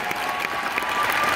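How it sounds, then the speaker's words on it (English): An audience at the Sundance world premiere of Eileen breaks into dense, even applause that carries on steadily through the short moment. "maybe people can give you a round of applause"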